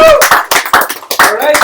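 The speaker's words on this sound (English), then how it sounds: "please give a round of applause to motivate" A few people clap briefly during a live stream, loud close-up hand claps in uneven bursts rather than a full crowd.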